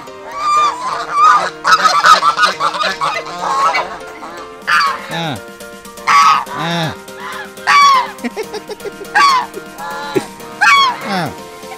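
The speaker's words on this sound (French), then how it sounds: "Je sais pas ce qui se passe avec les canards là-bas" Ducks in an outdoor park squabble noisily, honking and squawking in loud, close bursts that come and go, with a person speaking over the birds.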